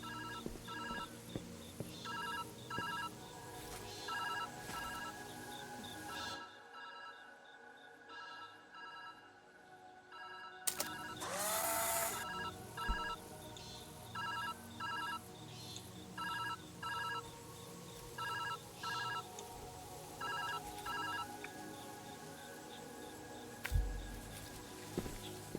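A telephone in the puzzle video game Viewfinder rings in repeated evenly spaced electronic bursts over ambient game music, pausing briefly midway before the ringing resumes.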